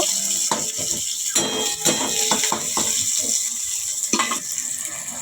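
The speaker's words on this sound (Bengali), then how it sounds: "পেঁয়াজ কুচিটা ভালো করে নাড়াচাড়া করে দিচ্ছি, একটু লাল লাল করে ভেজে নেব" Chopped onion sizzles in hot oil in a pan while being stirred, a steady frying hiss broken by scraping and clattering strokes of the spoon against the pan, close up.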